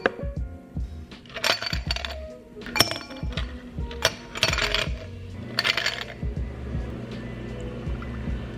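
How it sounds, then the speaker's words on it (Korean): About nine ice cubes are dropped into a glass for an iced latte, clinking and knocking sharply against the glass in quick clusters, close and bright, before settling into quieter rattles. "얼음은 잔에 9알 정도만 담아주세요"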